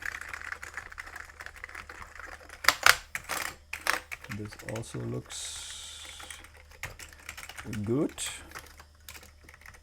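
Keys clatter on an Amiga 1200 computer keyboard under test, a brisk run of clicks and taps with a few heavier presses, while a person talks over the typing.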